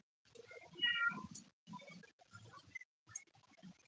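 A cat meows several times in short, uneven calls with brief gaps between them, fairly faint and close by, with no talking over it.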